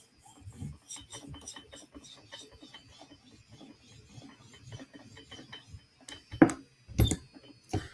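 A Chris Reeve Inkosi knife blade rasps across the sharpening stone of a TSProf Kadet guided system in steady, close strokes, with a few louder scrapes toward the end.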